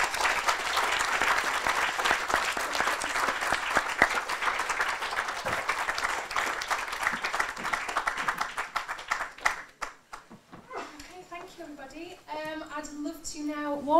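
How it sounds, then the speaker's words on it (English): An audience applauds panelists at an event on young people, the arts and mental health, with dense clapping for about nine seconds that fades out before a voice starts speaking. "I'll give them a round of applause"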